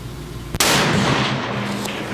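A single loud rifle shot on an outdoor shooting range, a sharp crack followed by a long booming decay.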